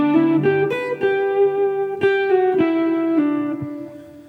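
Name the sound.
electric guitar playing a phrase from a solo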